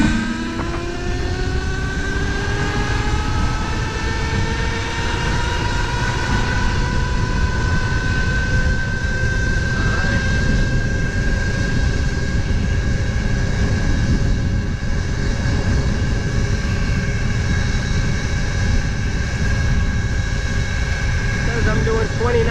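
A Kugoo Wish 01 electric scooter rides at top speed in its third gear, its electric motor giving a steady high whine over a constant rush of wind and road noise that runs unbroken throughout.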